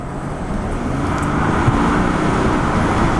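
A 2018 Ford F150 with a 3.0L Power Stroke diesel engine picks up speed, its low engine drone and road noise rising gradually and steadily, heard from inside the cab with no talking.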